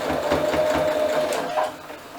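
A sewing machine stitches a rag quilt tote in a steady, fast whirring run with rhythmic needle pulses, then slows and quiets near the end.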